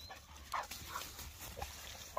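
A puppy whimpers in short, faint yelps while being attacked by a coyote at an outdoor picnic, a few soft cries spread across the moment against quiet background noise.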